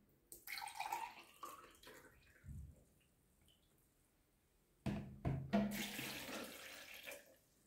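Water is poured into a blender for ginger pineapple juice in two splashing bursts separated by a quiet pause, with light knocks and clinks between them.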